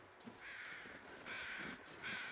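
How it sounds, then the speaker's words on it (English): Carrion crows caw in The Long Dark, three drawn-out harsh calls in slow succession, faint and distant against a quiet wintry background with no voices. "All right, so we've got some circling crows there."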